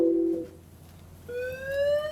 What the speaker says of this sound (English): alarm has been activated